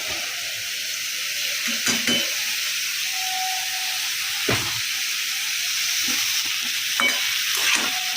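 Bottle gourd stir-frying with spices in an oiled pan: a steady bright sizzle and hiss throughout, broken by several sharp scraping stirs of the spatula, close up with no talk.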